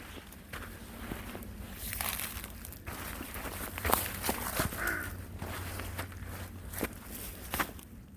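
A crow caws once or twice at a distance amid crunching footsteps in snow and rustling on snowy Gwanaksan mountain in Korea.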